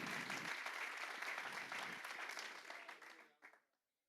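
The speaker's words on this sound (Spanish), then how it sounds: "si le vas a aplaudir, apláudele fuerte, que es para el Señor." A church congregation claps steadily and fairly loudly, then the applause fades out to silence after a few seconds.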